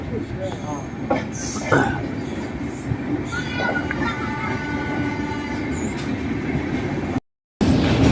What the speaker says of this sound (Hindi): तो फाइनली डिपार्चर हो चुका हमारा सोनपुर जंक्शन से